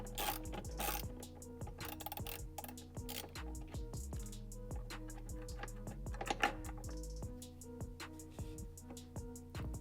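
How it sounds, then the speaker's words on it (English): Breaker bar ratcheting on a tightly torqued steering wheel bolt of a G87 M2, a rapid series of close, sharp mechanical clicks in uneven bursts, with no talk over them. "This bolt is torqued on there pretty good, so you might need a little bit of a breaker bar"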